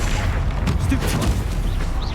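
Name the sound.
Stupefy spell cast in the video game Hogwarts Legacy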